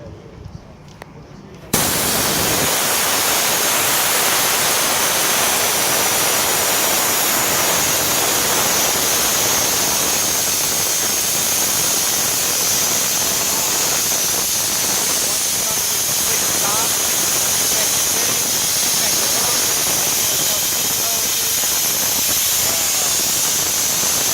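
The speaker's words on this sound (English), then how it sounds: "we're going to drain one of the tanks so that to make sure that the valves and everything's working" Water drains from one of the tanks of a JTECH DSL-016 system, starting suddenly after a short quiet lead-in as a loud, constant rushing hiss that continues unbroken and close for the rest of the clip.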